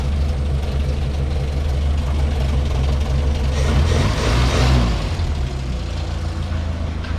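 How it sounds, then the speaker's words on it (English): A Morris Minor with a newly fitted engine idles steadily after a cold start, a close, even mechanical hum with a brief rise in revs midway before settling back. "Cold start."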